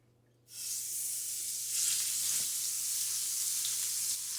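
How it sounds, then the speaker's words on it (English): Beef hits hot bacon grease in a pan over medium-high heat, setting off a sudden, loud, sustained sizzle that holds steady and close with no voices. "I got plenty of bacon grease in there. And I'm going to sear the meat."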